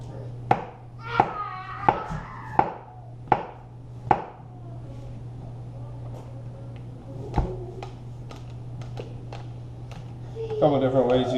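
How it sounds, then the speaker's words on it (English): Sharp knife chops on a cutting board while preparing steak, a string of distinct close hits at first, then sparser chops, with a person talking quietly and a low steady hum underneath. "just chop them up."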